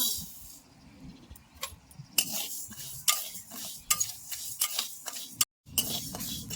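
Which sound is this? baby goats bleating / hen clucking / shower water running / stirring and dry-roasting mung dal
stirring and dry-roasting mung dal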